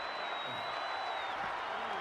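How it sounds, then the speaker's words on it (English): A hostile Canadian arena crowd at a WWE 2K26 wrestling match, a dense, steady roar of massed voices and noise filling the space throughout, with a commentator's voice faintly beneath. "This Canadian biased crowd continues to let Shawn Michaels know what they think about him."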